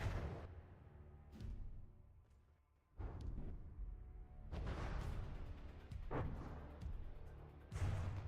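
A cannon in the From the Depths video game fires repeatedly, a little over one shot every two seconds, each boom loud and low with a long rumbling decay between blasts.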